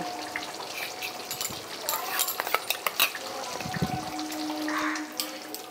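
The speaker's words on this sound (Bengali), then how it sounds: "টক দই মাংসের সাথে একটু মিশিয়ে দিচ্ছি।" Whisked sour yogurt is stirred into cooked meat in a pan, with steady sizzling, clinks and scraping of a spoon against the pan, and a voice speaking over the cooking.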